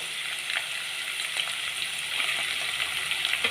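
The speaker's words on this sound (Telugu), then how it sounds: "ఇప్పుడు మనం ఉడకబెట్టుకున్న పప్పు అయితే వేస్తున్నాను ఇందులో" Boiled dal dropped into hot oil, a steady close sizzle and crackle of frying with faint stirring scrapes, continuous and without talking.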